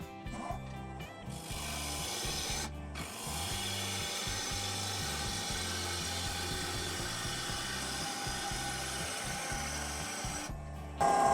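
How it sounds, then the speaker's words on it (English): Wood lathe spinning a goblet at about 1000 RPM while a 3/8 inch bowl gouge cuts it, giving a steady close scraping, rubbing drone with brief pauses where the tool lifts off the wood. "I'm going to be turning it at 1000 RPM, and I've changed from my 1/2 inch bowl gouge down to my 3/8"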